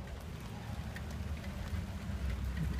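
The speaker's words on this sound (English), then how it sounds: "You can hear the rain outside, which is not pleasant, but it's typical England." Steady rain falling outside on a residential London street, Bracewell Road in W10, a soft even hiss heard from indoors, faint and continuous with a low rumble beneath.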